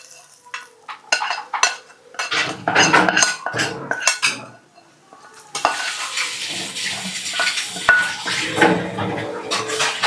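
A metal dosa griddle clanks down onto a stove for a ragi dosa, amid scattered clattering of utensils and pans, then a steady close sizzle settles in over the second half.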